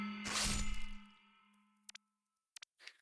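In a video game, a Slam attack lands as a critical hit with a loud metallic clang that rings out and fades over about a second. A few short, faint ticks follow in near silence.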